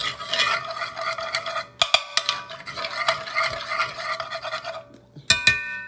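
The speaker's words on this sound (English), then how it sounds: "I'm gonna go ahead and mix this on up in there." Peach cobbler batter with real vanilla is stirred in a bowl, producing close, steady scraping and clinking strokes in an irregular rhythm, with a couple of sharp knocks near the end and no speech.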